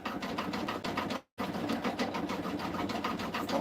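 Embroidery machine stitching out the remaining gingerbread design around a figure's hands, a steady rapid needle chatter running continuously and close, with one brief dropout partway through and no talking.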